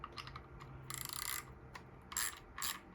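A 7mm socket on a ratchet works a metric bolt on a septic air pump during a rebuild, giving several short bursts of close, crisp clicking separated by brief pauses.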